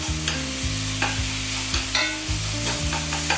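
Taco meat breaking up and browning in a pan, a constant loud sizzle cut by rhythmic spatula scrapes and chops every half second or so.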